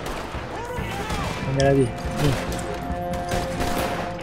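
Gatling gun fire in Red Dead Redemption 2 comes as bursts of rapid shots with in-game effects, under someone talking in Indonesian.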